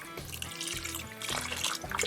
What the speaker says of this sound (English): I'm just going to use a little bit more stock and just fill it up a little bit